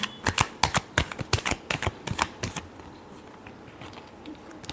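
Tarot cards are shuffled in a quick run of crisp, riffling snaps during a final shuffle, close and loud at first, then the rhythm trails off into quiet.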